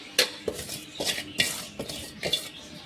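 Puffed rice (mandakki) being stirred into a tomato and garlic mixture in a pan, with a steady series of scraping, clinking spoon strokes against the metal, close and fairly quiet, no voices.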